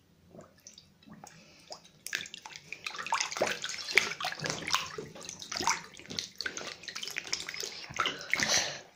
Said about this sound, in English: Time for me to take a shower.